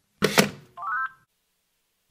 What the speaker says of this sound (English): He seems to put the phone down on himself.